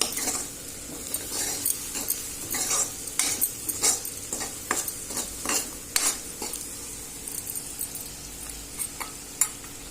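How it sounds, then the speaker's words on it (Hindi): Onions with salt frying in a pan, steady sizzle under repeated scraping strokes of a spoon stirring, close and fairly loud, with no talk. "प्याज थोड़ा जल्दी लाल होने के लिए मैं ये नमक डाल दूंगी"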